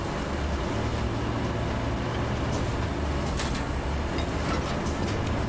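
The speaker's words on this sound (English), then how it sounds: "Engine's on. Get engine on." A truck engine in the video game RoadCraft runs with a steady low rumble and hiss, with a few brief air-brake-like bursts over a constant, moderately loud drone.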